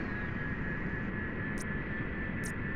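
Steady aircraft engine drone in the mech combat game MechWarrior Living Legends, a continuous broadband roar with a thin whine, holding level throughout with two brief high-pitched blips near the end.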